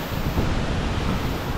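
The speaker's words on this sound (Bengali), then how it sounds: "জলটা চলে যাচ্ছে" Waterfall at Changey Falls near Kalimpong, heard as a loud, steady roar of rushing water with wind buffeting the microphone and no speech.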